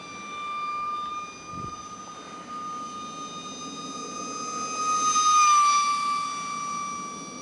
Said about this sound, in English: One nice flying jet.